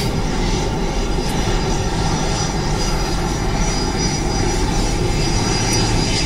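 A loud, steady roar of an airplane engine fills the whole stretch, broad and constant without pauses or voices.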